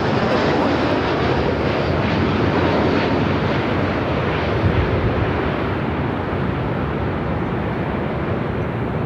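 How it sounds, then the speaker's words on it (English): A United Boeing Dreamliner arriving at Los Angeles from Newark rumbles with a steady, loud broadband engine roar that stays constant throughout, without any talking. "Was the Dreamliner with United coming in from Newark."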